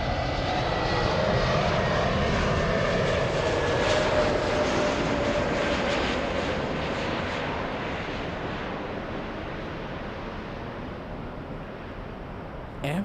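A Delta airliner in its special 100-year anniversary livery arrives at Los Angeles airport, its broad engine roar steady and fairly loud throughout, slowly easing toward the end with a faint whine carrying over the rumble.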